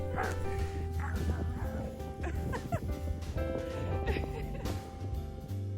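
A farm dog barks in a run of yips and woofs over a steady low mechanical hum, with some brief whimpering mixed in between the sharper barks.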